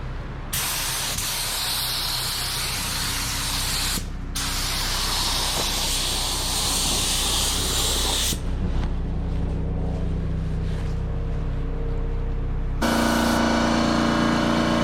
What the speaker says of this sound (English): In this quarter panel section, I am making sure my spray gun has the correct spray settings.